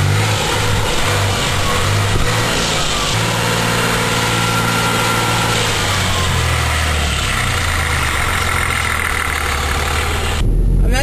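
A car engine hums steadily while driving along a snowy residential street, a low droning rumble with slight shifts in pitch, heard from inside the car, ending in a brief louder burst.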